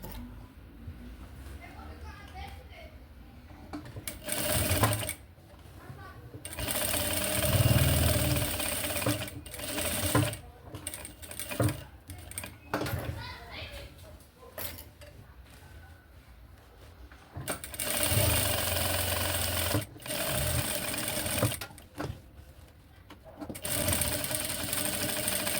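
A sewing machine stitches fabric for a quick document holder, running in several bursts of steady mechanical whirring separated by short pauses, with a voice talking in between.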